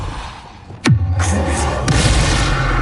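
Depulso spell cast in Hogwarts Legacy: a sharp whooshing pitch-drop into a deep booming thud, followed by a rumbling, crackling impact tail that stays loud to the end.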